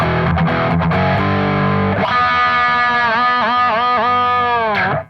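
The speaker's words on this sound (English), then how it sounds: "Patch 2 is just going to be distortion without the flanger." Loud distorted electric guitar without flanger, switched through a BOSS ES-8 pedal system, playing a few choppy chords, then a long sustained note with bends and vibrato before stopping abruptly.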